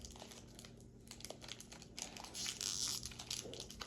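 A Pokémon card pack wrapper is torn open by hand, producing close, quiet crinkling and tearing that grows louder toward the end.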